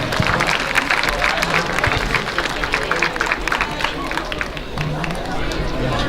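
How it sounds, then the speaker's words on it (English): Spectators at a junior livestock show in Bailey County applaud exhibitors, a dense, steady round of clapping from a crowd in an arena, with background chatter mixed in. "Let's give these two kids a nice round of applause."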